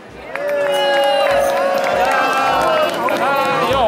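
Outdoor crowd at a carnival parade prize ceremony cheers and claps while a brass band plays loudly, sustained horn tones and festive noise filling the scene, voices and applause blended under the music.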